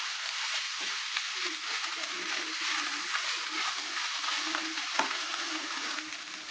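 Fish patty filling sizzling and frying in a pan while being stirred, a steady broadband hiss with soft scraping strokes throughout, close and continuous, no talking.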